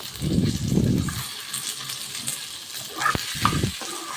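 Green chilies and onions frying in oil, a moderate sizzle with a few bursts of stirring and a sharp clack of the spatula against the pan.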